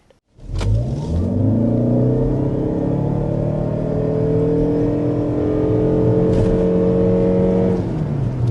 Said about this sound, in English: there's a little past 60 miles per hour in the Lexus RX 450h Plus.